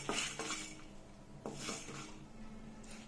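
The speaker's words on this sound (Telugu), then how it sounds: "దాల్చిన చెక్క, లవంగాలు, యాలక్కాయ, మిరియాలు, 1 అనాస పువ్వు, బిర్యానీ పువ్వు వేసి దీనికి లైట్గా వేయించడం" Whole spices, including cinnamon, cloves, cardamom, peppercorns, star anise and stone flower, being lightly fried and stirred in a metal pan, giving repeated close scraping and clinking strokes of a spoon against the pan, quiet and without talking.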